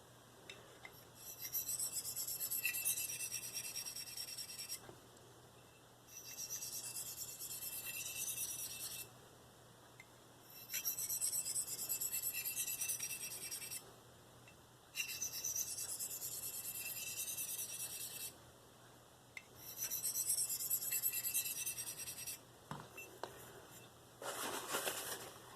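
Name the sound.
sharpening a Marttiini Lynx knife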